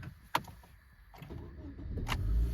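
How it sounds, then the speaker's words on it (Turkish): A Honda Civic engine starts up, a short starter whir followed by a rising, steady engine rumble building toward the end, heard close up inside the car. "Şimdi aracımızı çalıştıralım."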